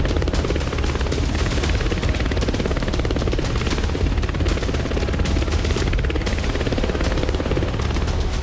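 Russian military helicopter in a war zone, its dense rotor and engine roar filling the whole stretch loudly and steadily, with sharp cracks like gunfire or impacts punctuating it.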